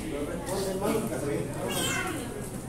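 People in a classroom imitate cat meows, several playful mewing calls overlapping one another amid chatter and talk, loud and close throughout.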